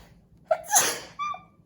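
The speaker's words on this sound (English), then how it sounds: "So I have to sneeze." A single sharp sneeze, a quick indrawn breath followed by a bright burst and a brief trailing exhale, close to the microphone with no talking.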